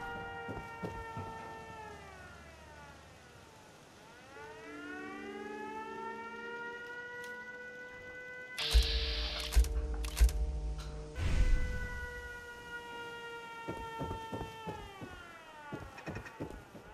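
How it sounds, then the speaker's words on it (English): In the Fallout 4 video game, an alarm siren wails in long rising and falling sweeps, overlaid with a loud burst of crackling clatter midway and sharp clicks throughout. "Who set off the alarm?"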